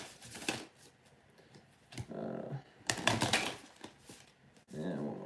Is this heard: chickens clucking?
no